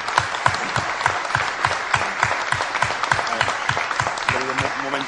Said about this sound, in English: I don't have to ask you to give him a very big applause.